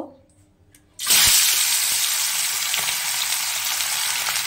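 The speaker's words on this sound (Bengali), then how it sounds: "একটা ফ্রাই প্যান বসিয়েছি, তাতে দিয়েছি সর্ষের তেল। এবারে মাছটা ভেজে নেব।" Marine fish dropped into hot mustard oil in a frying pan bursts into a loud, steady sizzle that carries on without a break after a brief quiet moment.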